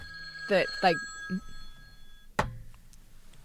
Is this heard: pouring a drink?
no